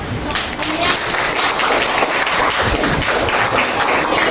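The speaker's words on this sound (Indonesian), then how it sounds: "Tepuk tangannya dulu dong" An audience in a classroom guidance session claps for a group presentation: a loud, dense patter of many hands runs throughout, with voices mixed in underneath.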